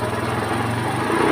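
A Honda Super Cub motorcycle engine idles nearby, a steady close putter with rapid firing pulses that swells slightly louder at the end.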